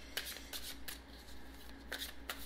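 A deck of cards is shuffled for a tarot-style reading, giving soft riffling, papery flutters in a few quick bursts, faint and close in a quiet room.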